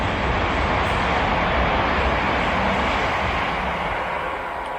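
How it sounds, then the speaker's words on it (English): A train rumbles past in a steady, loud roar near Hadley Wood on a north London walking route, heard from a bridge, with the noise holding evenly and easing slightly toward the end. "Right, that would be the trains."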